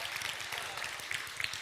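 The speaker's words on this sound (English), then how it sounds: "a big applause for these well-dressed 2 gentlemen and these awesome introductions" An audience claps for two presenters at a talk on testing and coaching, a fairly quiet, steady patter of many hands filling the short moment with no one speaking.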